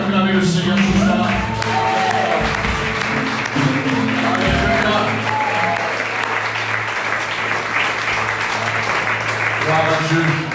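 A church congregation applauding during an evening service, loud sustained clapping from a large crowd, with voices and cheering mixed in throughout.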